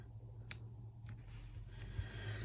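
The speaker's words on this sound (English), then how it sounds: "I'm gonna put some of this washi tape down, but I don't want to slice all of Eeyle's face off if I can help it." Washi tape being sliced for a planner page, heard as a few faint, close, crisp snips spaced out over a quiet low hum.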